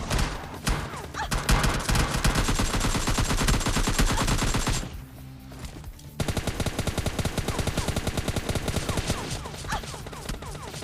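Dense automatic gunfire and cover fire from a battle royale video game, rapid bursts of shots rattling nearly nonstop, with a brief lull in the middle before steady repeated firing resumes.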